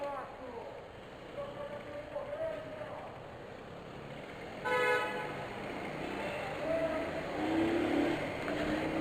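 Amid traffic noise and some talking, a car horn sounds in short honks, one louder blast standing out partway through.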